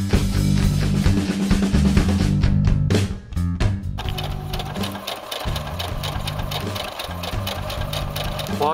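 A sewing machine stitches cloth for a foam latex katana sword cover, loud and close with a rapid steady needle rhythm, briefly pausing then running on.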